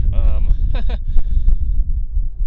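Low, blustery wind rumble at Smith Rock State Park, Oregon, buffets the microphone throughout, with a brief voiced sound early on.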